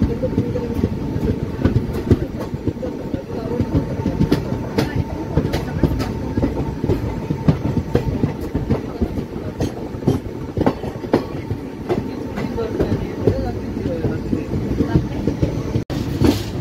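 An Indian passenger express runs on rails near Kalyan, with a constant loud rumble and a steady clickety-clack of wheels over rail joints throughout.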